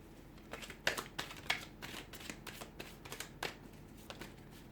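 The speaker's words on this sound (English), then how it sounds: "I'm going to give the cards a shuffle and see what the cards predict for you here in terms of love." Tarot cards shuffled by hand in a series of crisp riffling bursts and soft slaps, close and fairly quiet, with no talking.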